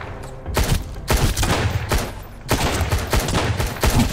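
Loud bursts of gunfire from the Sunkenland survival game arrive in quick volleys with brief gaps between them, close and dominant throughout.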